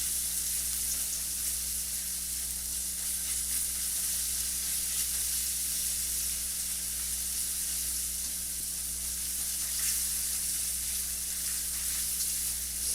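Food toasting in a hot frying pan, a steady bright sizzle and crackle that stays even and loud throughout, close by with no talking.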